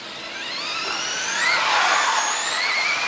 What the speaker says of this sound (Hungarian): Ez a szép drift is.